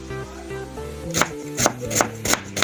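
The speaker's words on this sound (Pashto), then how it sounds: "اول به موږ پیاز میده کړو" A knife chops onions finely on a board, six or seven crisp, rapid knocks heard close up, while soft background music plays and nobody speaks.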